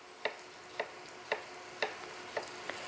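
Yellow squash half-moon slices frying in a butter and olive oil mixture: a steady soft sizzle broken by six evenly spaced sharp clicks as pieces are added, with no talking.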